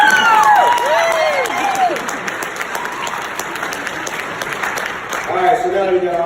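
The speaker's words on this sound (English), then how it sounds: "give another round of applause to that amazing performance that we just" Audience applause and cheering after a kids' performance at a Black History Month event, loud and sustained with whoops and shouts rising over the clapping, easing midway and then swelling again near the end.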